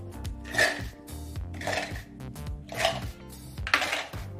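Dried red chillies, roasted beforehand, clatter into a mixer jar in four quick bursts of light rattling against the jar's hard sides, close and crisp with brief pauses between pours.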